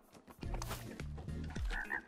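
Frog croaking in the video game It Takes Two, a clear, loud burst of a couple of low, throaty croaks over game sounds, with no speech.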